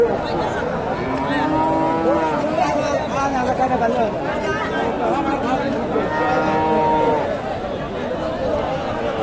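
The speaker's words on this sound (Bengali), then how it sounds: "এখানে একটা ষাঁড় গরু দেখেন" A Friesian bull at a busy cattle market in northern Bengal gives long, drawn-out moos that rise over a constant din of crowd chatter and nearby voices.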